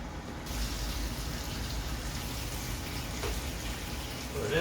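Tap water running in a home kitchen, a steady close hiss and splash filling the whole stretch, with a faint voice at moments.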